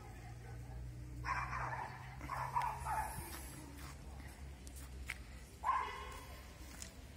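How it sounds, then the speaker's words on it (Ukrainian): Dogs bark near a mineral-water pump room at a spa resort, several separate yaps and barks spread across the moment at moderate distance over a steady outdoor hum. "Собаки біля бівету, все як має бути."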